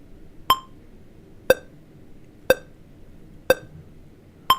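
A short electronic beep repeats five times at a steady one-per-second pace, each tone clean and distinct over a faint low hum.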